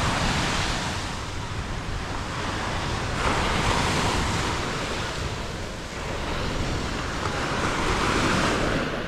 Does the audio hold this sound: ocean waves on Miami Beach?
yes